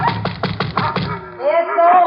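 A run of about seven quick, evenly spaced knocks on a door sounds close and firm, followed by a voice speaking.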